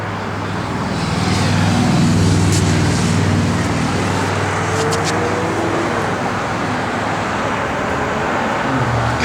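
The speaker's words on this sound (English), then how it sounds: "Sorry about the trucks in the background, guys." Trucks rumble in the background near a building being remodeled, a continuous broadband traffic roar with low engine drone that swells slightly and holds steady.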